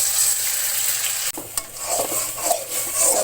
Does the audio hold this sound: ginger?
yes